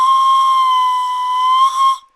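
A pan flute sounds one sustained, loud high note, played in a high-register technique with the pitch bent slightly by covering, holding steady for about two seconds before stopping abruptly.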